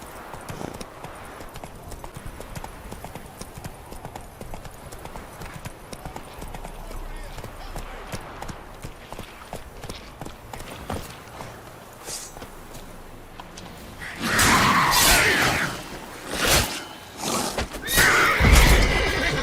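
The horse Roach from the video game The Witcher 3, hooves clip-clopping throughout under game ambience, then loud neighs and whinnies bursting out near the end, with voices talking over parts of it.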